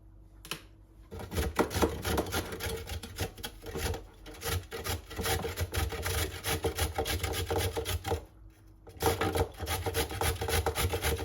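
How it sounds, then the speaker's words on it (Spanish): Carrots are grated against a metal grater at close range in a kitchen, a rapid rasping scrape that repeats in quick strokes, with short pauses near the start and toward the end. "la vamos a rallar"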